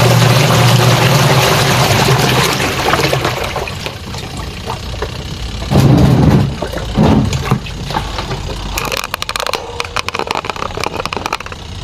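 A single-tub washing machine draining water, a rushing gurgle of outflow with a low motor hum at the start, turning to irregular splashing and spurting toward the end.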